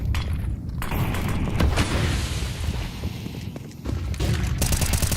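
An incendiary grenade thrown during a Counter-Strike 2 esports tournament match, heard as loud booms and rapid bursts of gunfire that rise and fall over several seconds.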